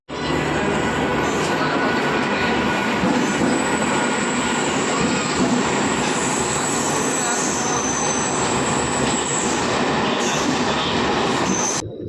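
A train rolls through Yeshwantpur railway station in Bangalore with a loud, continuous rumble, wheel squeal and clattering throughout, stopping abruptly at the end.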